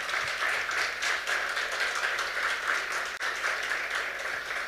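Steady, sustained audience applause for a music group at their third-anniversary festival, a dense, even wash of clapping from a crowd throughout.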